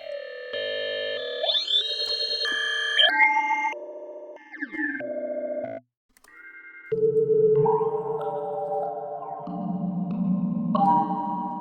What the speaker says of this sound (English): it'll play these little notes, which are then going to be transposed, warped in different glitching modes, and I'll apply a formant filter